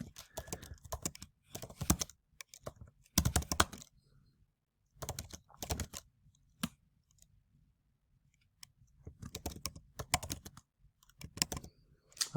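Typing on a computer keyboard, bursts of rapid clicky keystrokes separated by short pauses, close and clear with no speech.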